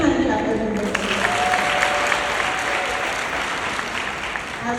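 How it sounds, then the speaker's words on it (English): Hand-clapping applause from an audience at a youth leadership forum in Uganda, dense and sustained, fairly loud and close, with no voices over it. "Let's give them a big hand clap"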